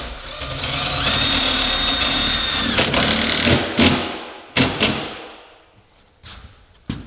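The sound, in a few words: drill driving wood grip screw with neoprene washer into metal roof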